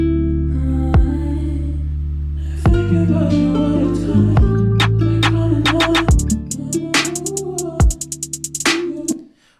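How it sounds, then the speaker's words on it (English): A song's drum track built from two layered kick drums and two different snares plays at full level, with booming low hits and sharp snare cracks that break into a fast run of repeated hits near the end. "So then we added drums. That sounds like this."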